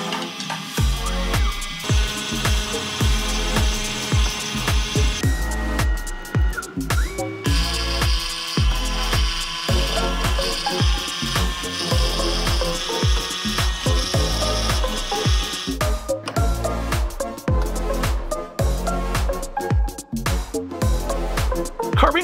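A Makera Carvera Air desktop CNC machine carves a logo into a small wooden piece, giving a loud continuous high-pitched spindle whine with shifting grinding and cutting tones and brief pauses between passes, close by and without speech.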